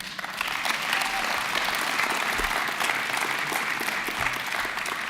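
A political meeting audience in Monaco applauds the Union monégasque team, a steady, dense wash of clapping that fills the room evenly for about five seconds without speech.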